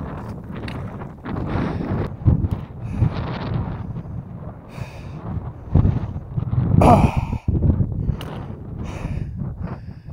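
Cool wind gusting across an open mountain summit on a hot day, a steady broadband rush with swelling gusts and buffeting against the microphone throughout.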